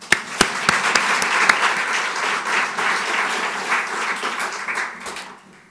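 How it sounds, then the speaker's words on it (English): Audience applause fills a room at the Educational Publishing Awards Australia 2022 ceremony, a few sharp individual claps leading into a dense, steady ovation that holds for several seconds before tapering off, with no talking over it. "I hope you will join me in another round of applause"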